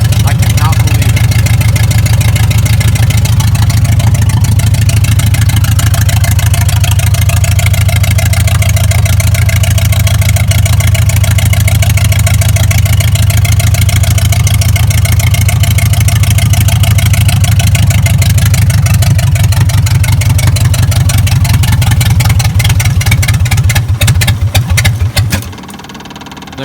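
A 1966 International Scout with 46,000 original miles, revived after sitting 36 years, idles with a loud, even, close rumble for most of the time before the engine cuts out near the end.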